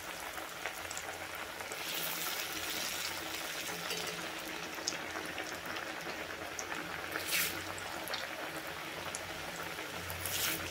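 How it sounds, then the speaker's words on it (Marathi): Chakli made from bhajani flour dough fries in hot oil, a steady, moderate bubbling sizzle that runs through the whole stretch without voices. "आपण चकली एक एक करत ह्याच्यामध्ये सोडतोय."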